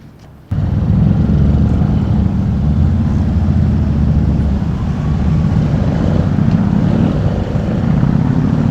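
A touring motorcycle pulls away from a stop: a sudden loud jump from quiet idle into a sustained, deep engine roar and wind rush that holds steady to the end, with no talk.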